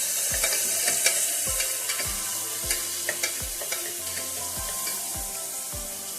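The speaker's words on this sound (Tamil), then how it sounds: "அது நல்லா வதங்கணும்" Ingredients for beetroot biryani sauté in a pan with a continuous soft sizzle, while a spoon taps and scrapes the pan in a regular rhythm of about two strokes a second.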